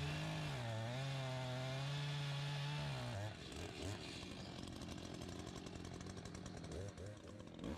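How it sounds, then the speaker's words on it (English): Two Echo chainsaws, a CS-590 Timberwolf and a CS-620-PW, run side by side at a loud, steady high-revving drone. The pitch dips and wavers after a few seconds as one saw changes speed. "With the two saws side by side, it does sound like the 620 has a slightly deeper and maybe milder sound to it than the Timberwolf does."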